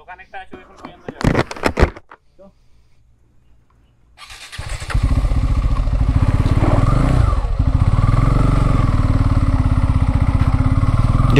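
A Pulsar N250 motorcycle starts up on a hilly road on a bike tour. It comes after a few clattering knocks and a short quiet pause, then settles into a steady, loud, close idle rumble.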